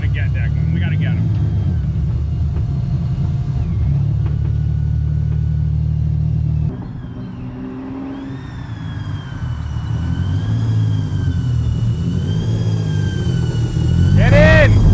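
A supercar-engined Ford Mustang revs loudly out on the street, its deep engine roar swelling in a few sharp throttle rips and then settling into a high idle, with people talking over it throughout.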